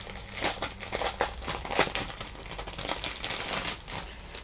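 Wrapping paper crinkles and rustles steadily while a gift box of beads is unboxed, a dense run of close crackling handling noise with no talk.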